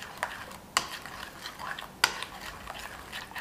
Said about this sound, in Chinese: 充分的搅拌均匀。